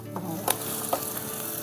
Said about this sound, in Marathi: चांगलं जाळ लागलं आता पटकन आपलं कांदा आता भाजून होईल